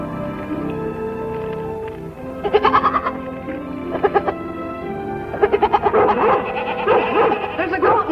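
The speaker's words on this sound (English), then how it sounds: "There's a goat in trouble." Goat in trouble bleating in repeated loud, wavering bursts, alternating with barking, outdoors and close by over a low background.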